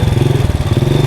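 A motorcycle engine during wheelie practice on a riding lesson: a steady, close mid-pitched throb with a quick even pulsing rhythm, running alone without speech.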